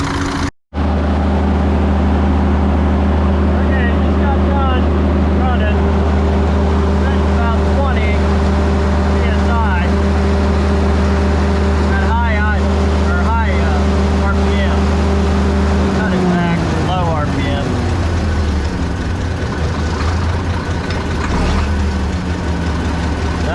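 A Cat D6B bulldozer with a D333 diesel engine runs loud and steady at close range, its low drone shifting pitch partway through, with a few faint background sounds layered over it.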